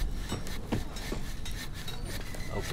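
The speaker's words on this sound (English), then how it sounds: "So we've got some sawing in here." A sawing noise from the horror video game Amnesia: Justine scrapes in repeated rasping strokes at an uneven rhythm, moderately loud and continuous.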